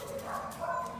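A seven-month-old female puppy gives a brief, fairly faint bark-like yip, heard alone in a short moment.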